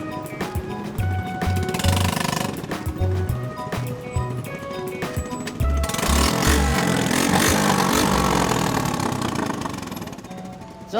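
A motorcycle fitted with a racing exhaust revs in short, throaty bursts that give way to a louder, sustained engine roar, close by.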